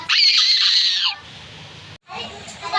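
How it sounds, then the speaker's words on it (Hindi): A woman's high-pitched, piercing scream rings out for about a second, then cuts to quieter background noise with a brief dropout. "उसे सामने वाली हवेली से किसी की चीखने की आवाज़ आती है"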